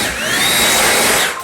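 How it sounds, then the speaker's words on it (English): A Stihl battery-powered leaf blower whirs in a loud, steady high-pitched whine close by, holding for about a second before tapering off at the end. "Trusty Stihl battery powered leaf blower."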